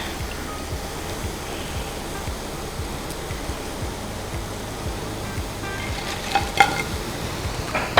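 Crumbed chicken pieces fry in hot oil, a soft continuous sizzle and crackle with faint stirring or scraping, and a few brighter pops near the end.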